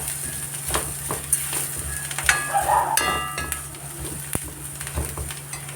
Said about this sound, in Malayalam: ഇനി ഇതിലേക്ക് നമുക്ക് പൊടികൾ മുളക് പൊടി മല്ലിപ്പൊടി മഞ്ഞൾപ്പൊടി ഇതിലേക്ക് ചേർത്ത് കൊടുക്കാം നന്നായിട്ടൊന്ന് മിക്സ് ചെയ്യാം